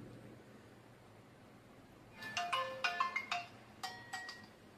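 A phone ringtone plays while a call is being placed: after a quiet stretch, a clear, fairly close electronic melody of bright beeping tones comes in short repeated bursts.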